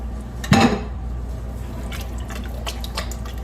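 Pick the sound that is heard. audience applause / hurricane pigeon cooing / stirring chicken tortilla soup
stirring chicken tortilla soup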